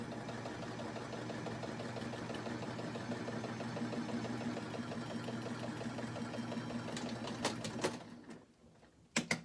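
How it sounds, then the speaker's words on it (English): A sewing machine runs steadily while stitching a fabric face mask, a continuous close mechanical whir that stops near the end, followed by a few faint clicks and handling sounds. "So right now I'm just sewing in that"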